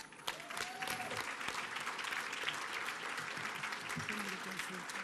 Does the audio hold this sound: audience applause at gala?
yes